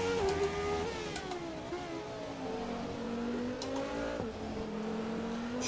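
An F1 2017 race car on the Spanish Grand Prix circuit screams along at high revs, its engine pitch wavering and dropping as it slides, with brief tyre squeal and whine, close and steady throughout.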